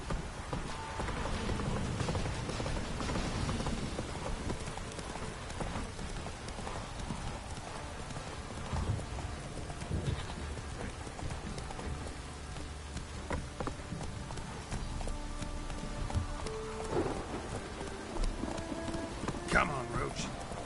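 Hooves clip-clop steadily as the horse Roach gallops through The Witcher 3 game world, a continuous rhythmic beat that stays close and loud from start to end, with someone speaking over it and faint rain-like hiss behind.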